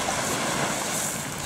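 The gasoline motor of a Keene 176 power sluice runs in a loud, steady, broadband roar right after starting on the first pull, close by with no talk.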